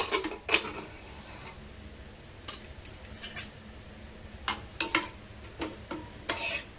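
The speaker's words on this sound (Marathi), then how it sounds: "आपण कुकर उघडून बघूया।" A cooled pressure cooker holding cooked urad dal is opened in a home kitchen. Its metal lid gives several short, near scrapes and clinks spread across a quiet background, with no talking.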